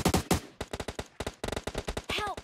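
Rapid gunfire in a video game, dense bursts of sharp close shots stuttering in quick clusters with brief gaps, loud and up front, with a short spoken exclamation near the end.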